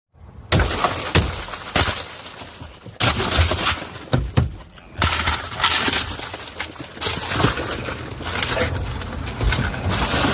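A car window is smashed repeatedly during a police traffic stop, with loud, sharp bursts of shattering glass recurring across the clip and crunching debris between the impacts.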